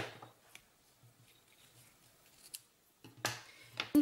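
Scissors snip through a piece of green double-stitched ribbon, a few quiet, close cuts at the start and a louder cluster of sharp snips near the end, with near silence between.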